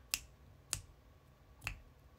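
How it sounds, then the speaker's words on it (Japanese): Three sharp finger snaps ring out close and crisp, spaced roughly evenly apart over a quiet background. "指パッチンしちゃう"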